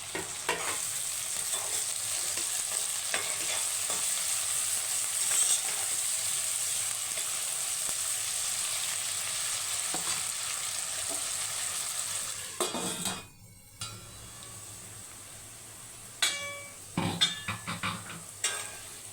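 Onions, green chillies and mint fry in a pan with a steady, close sizzle and repeated stirring scrapes, the hiss loud for about thirteen seconds before easing, with a few utensil clinks near the end.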